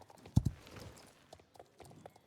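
A Welsh pony jumps in the Star Stable Online video game, its hooves landing in a couple of sharp, heavy thuds followed by softer clip-clop steps, fairly quiet and with no talk.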